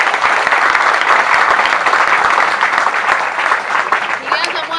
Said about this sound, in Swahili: Pigieni makofi mengi sana.